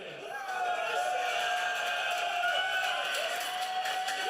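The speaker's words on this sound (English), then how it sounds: "Now give me a big cheer if you think Machine was the winner." An audience cheers for a winner at a live gaming show, a sustained wash of shouting and whooping that rises quickly and holds steady for a few seconds.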